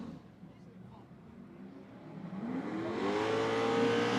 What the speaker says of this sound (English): All right, couple good revs here.